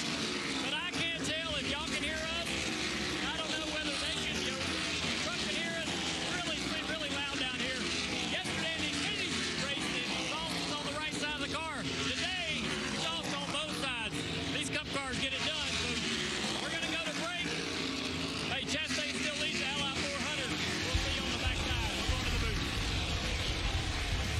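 Stock cars from the NASCAR Cup Series racing at Nashville in 2023, a dense, continuous engine roar with shifting pitches as cars work through a corner close by, under a commentator's voice throughout.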